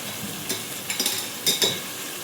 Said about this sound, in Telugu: శుభ్రంగా కడుక్కొని వడకట్టుకున్న కైమా అండి అలా వేసేసుకోవాలి